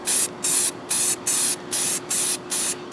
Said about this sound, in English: now you're going to take clear coat